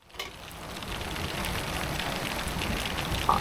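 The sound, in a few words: heavy rain falling outside a small hut in the Alps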